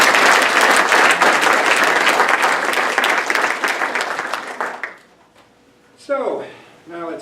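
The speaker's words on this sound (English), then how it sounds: "So give yourself an applause." An audience at a church installation ceremony gives itself a round of dense, steady applause that fades out after about five seconds, followed by a brief silence and then a speaking voice.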